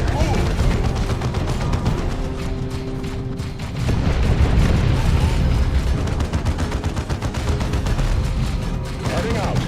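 Dense, continuous gunfire and artillery blasts in the Dawn of War II real-time strategy game, loud overlapping shots and booms throughout with brief battle voice lines mixed in.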